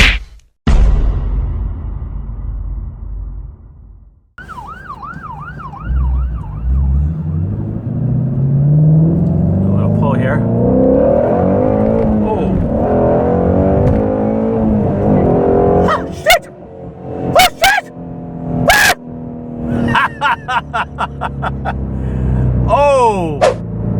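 A car runs on E85 fuel after an idle procedure and accelerates onto a highway. The engine note climbs steadily and loudly from inside the cabin, with clicks and brief knocks near the end.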